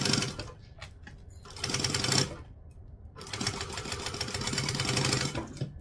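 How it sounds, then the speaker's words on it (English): Sewing machine topstitching along the full length of fabric for a doll, loud close motor buzz in two bursts with a short pause between, each stitch run steady and even. "on the full top stitching length, we're going to top stitch"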